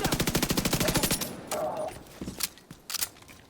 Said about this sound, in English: Fast firing.